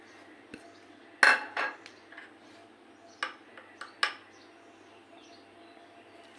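Flour, nigella seeds and salt are stirred together in a bowl for samosa dough, giving scattered clinks and scrapes of a utensil against the bowl, with quiet gaps between the strikes.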